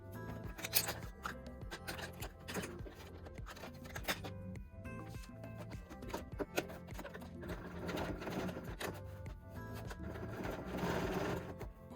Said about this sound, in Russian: И тут должны проложить строчку.